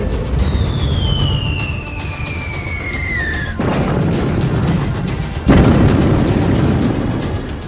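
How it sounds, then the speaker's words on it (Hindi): A descending incoming-missile whistle leads into two heavy, rumbling explosions a couple of seconds apart, loud over a constant roar of background noise, from an Iranian missile attack on Israel. "अब ईरान की तरफ से जोरदार मिसाइल अटैक किए जा रहे हैं इसराइल पर"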